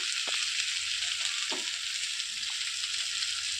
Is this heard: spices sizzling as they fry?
yes